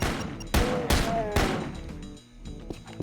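Gunfire in the video game Doom 2 played with an accessibility mod: three loud, close shotgun-like blasts about half a second apart, each with a ringing tail, followed by quieter game sounds.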